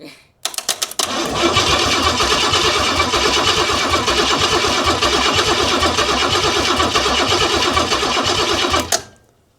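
An old Pontiac Trans Am that sat abandoned in the woods cranks in a few quick stuttering bursts, then catches and runs at a steady, rough, loud idle for several seconds before shutting off abruptly.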